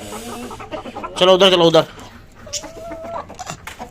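A hen squawks loudly in one harsh burst after climbing up high, with softer clucks around it, close by while people talk.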